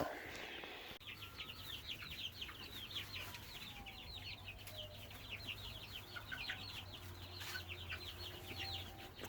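Chickens on a farm cluck softly and steadily in the background, a quiet run of short calls against a low ambient hum, with no talking.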